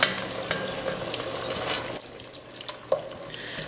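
Onions simmer in about a cup and a half of wine as it reduces in a pan for smothered pork chops, a dense bubbling hiss with a few sharp clicks and scrapes near the end.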